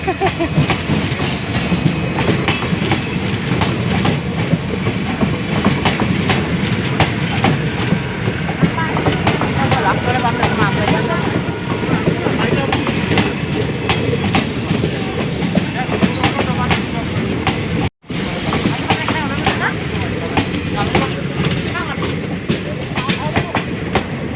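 A train rumbles past at close range with a steady clickety-clack of wheels over rail joints, loud and continuous, with brief indistinct voices mixed in.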